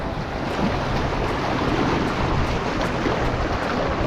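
A small fishing boat out on the sea rides through waves, and a steady rush of surf and wind noise fills the whole stretch at a constant loud level, with no voices.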